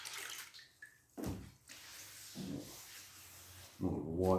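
Water splashes in short bursts over a wet-rubbed primer filler panel on a VW Beetle trailer, with quieter dripping and handling noise between the washes, close by.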